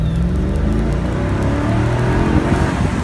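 A 2003 Mercedes-Benz SL500 Roadster engine revving up close and loud, a dense, continuous roar with climbing pitch as the throttle is blipped over a few seconds, with no talking.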